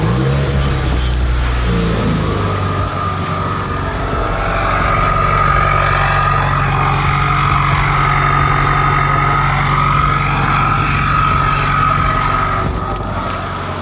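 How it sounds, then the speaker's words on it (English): Subaru WRX with a full exhaust starts up and settles into a loud, rumbling idle, a steady close engine drone with slight rises in revs throughout. "And go ahead and start the car, take it off."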